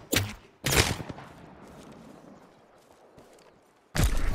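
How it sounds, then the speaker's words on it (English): Bursts of gunfire in a video game shooter, two sharp volleys close together at the start and another loud burst at the end, with quieter scattered action in between. "Getting shot at."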